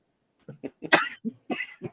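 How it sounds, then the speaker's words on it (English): A person coughs several times in quick succession, close and fairly loud, in short rough bursts. "I'm sorry about the cough"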